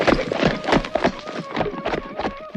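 Hooves of a prince's horse clop rapidly in a galloping rhythm as the animal charges forward, with a faint tonal whinny-like line running underneath throughout.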